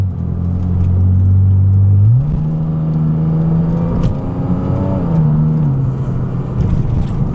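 A Porsche Cayman 987.1 engine while driving, a deep, loud, steady rumble from inside the cabin that rises in pitch as the car gathers speed, eases back, then climbs again.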